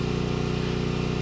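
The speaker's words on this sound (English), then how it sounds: "That's the sound of our new generator that we just rented." A portable generator hums steadily with an even, throbbing drone, close and constant throughout the short stretch.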